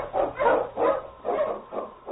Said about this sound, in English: The Wonder Dog King, swiftest and strongest of Eskimo lead dogs, blazes a trail through storm and snow